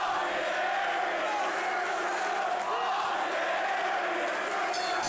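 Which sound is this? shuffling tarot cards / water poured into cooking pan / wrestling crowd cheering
wrestling crowd cheering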